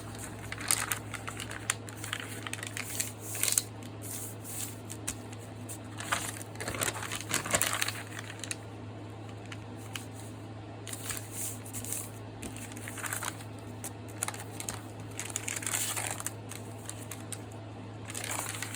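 Greeting-card stock being folded by hand to make a notebook, soft crinkling and creasing paper handling at close range, with a few sharper crisp crackles, steady and quiet without talk.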